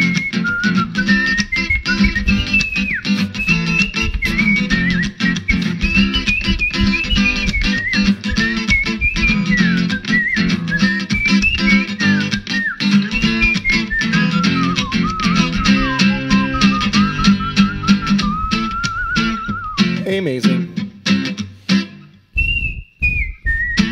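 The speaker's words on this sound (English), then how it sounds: "Whistle solo." Whistling solo in an acoustic ska-punk song about beer: a clear melodic whistle runs over strummed guitar and band accompaniment for about twenty seconds, then the music drops away briefly.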